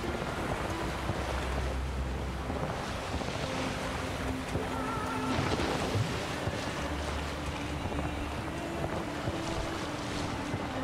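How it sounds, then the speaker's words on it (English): Choppy ocean waves and wind while sailing a boat in The Witcher 3, with continuous water wash, wind noise and creaking vessel sounds at moderate level, no talking. "Waves are getting choppy."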